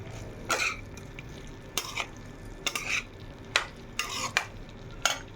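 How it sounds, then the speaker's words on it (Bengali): A vegetarian curry being sautéed in a pan, with a spoon scraping and stirring in separate short bursts over a soft, steady sizzle, close and fairly quiet. "আর একটু কষিয়ে নেব।"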